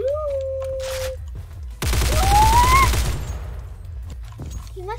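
A burst of rapid gunfire roars out in a shooting video game, loud and rattling for about a second, with quieter game sounds and a faint voice around it.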